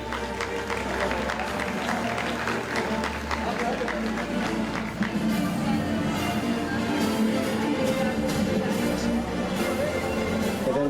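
Audience at a media awards ceremony applauding as a musical duo comes on stage, dense continuous clapping from a large crowd, loud and sustained, with some voices mixed in.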